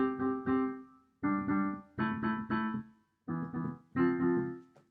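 Guitar power chords strummed in short bursts, about six separate stabs with brief gaps, fairly close and clear, no voices.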